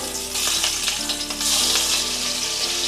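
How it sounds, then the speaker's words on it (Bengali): Hot oil crackles and sizzles steadily as rohu fish heads fry in a pan, with a faint tonal hum running underneath. "তেল গরম করে নিয়ে একে একে মাছের মাথাগুলো তেলে দিয়ে দিলাম।"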